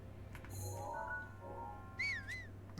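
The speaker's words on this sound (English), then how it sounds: "Now, don't whistle now, Link." Link whistling in The Legend of Zelda: Breath of the Wild, a short rising-and-falling whistle tune heard over quiet game ambience with a few faint tonal chimes, no talking.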